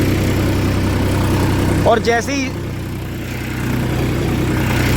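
A farm tractor running in low gear in a field drones steadily throughout with a low, even engine hum, while someone talks and a brief whistle-like chirp rises over it.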